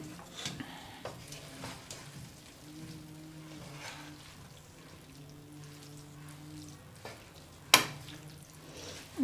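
Chicken chowmein noodles stirred in a pan, a soft continuous sizzle with scraping strokes and a sharp utensil clack near the end, with no one talking.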